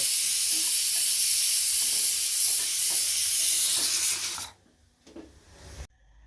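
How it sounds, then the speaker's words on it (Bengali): A pressure cooker cooking rice and dal lets out a loud, steady steam hiss for about four seconds, then cuts off abruptly, leaving quiet with faint clatter. "আর এদিকে রান্নাটাও বসিয়ে দিয়েছি প্রেশার কুকারে"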